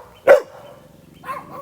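A single sharp dog bark rings out close and loud, followed by a faint softer yip or voice a second later.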